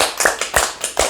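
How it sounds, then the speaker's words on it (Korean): A church congregation claps in a few loud, distinct beats, roughly evenly spaced, with no voices. "하나님께 감사와 영광의 박수를 드리십니다"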